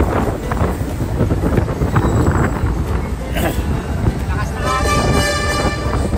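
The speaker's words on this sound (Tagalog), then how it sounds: "Napakalakas ng hangin." Heavy wind in Jeju City, South Korea buffets the microphone with constant low rumbling gusts, and a voice speaks over the noise.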